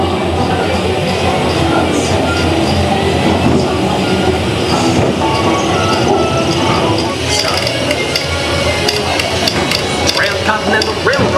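A Transcontinental Railroad scene on the Spaceship Earth ride at EPCOT, Walt Disney World, carries a loud, continuous train effect of rolling wheels, clattering rail cars and metallic clanks, with a hammering-like tapping toward the end over busy ride ambience.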